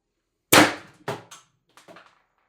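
An X-68 air-powered launcher fires a 7.3 g aluminum round in one loud, sharp close-range pop, followed by a couple of fainter clattering knocks as the round bounces away.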